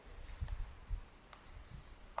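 Marker or chalk writing on a board while working through a matrices problem, heard as a few faint, scattered scratches and taps in a quiet room with no talk.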